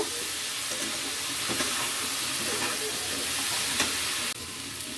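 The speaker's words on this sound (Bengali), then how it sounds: "কাঁচা লঙ্কা আর রসুনের পেস্ট একটু ভালো করে কষিয়ে নেব" Green chili and garlic paste stir-fried in a pan for a Bengali katoya data and fish-head dish, a dense, loud, continuous sizzle with occasional scraping stirs, cutting off abruptly near the end.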